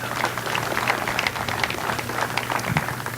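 An audience applauding the AV table crew at a MICPAC event, a dense, even wash of many hands clapping continuously at close range with no voices over it.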